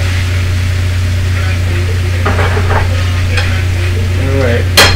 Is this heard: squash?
yes